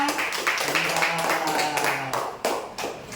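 A group at a Christian religious education class claps together in a brief burst of sharp, dense applause, close and moderately loud, with voices mixed in.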